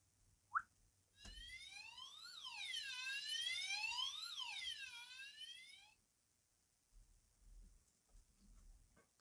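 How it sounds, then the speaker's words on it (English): An electronic police siren wails with rising and falling sweeps for several seconds, then stops, leaving faint low rumbles afterward. "Officer Panda sounds the siren again."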